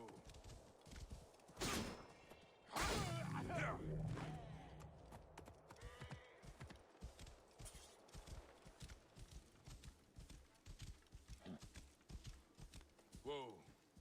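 Horse hooves clopping in Assassin's Creed Origins, a rider on horseback amid combat, with bursts of clashing impacts and shouts, the hoof beats irregular and moderately close under scattered voices.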